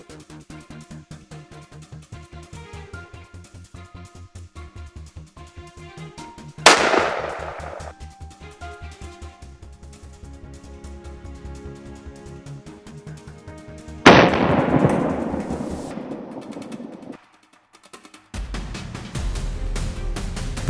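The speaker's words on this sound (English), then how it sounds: "bang! A clean shot rang out." Two loud rifle shots during a night wild boar hunt at a cornfield, each a sharp crack with a decaying tail, spaced several seconds apart over steady background music.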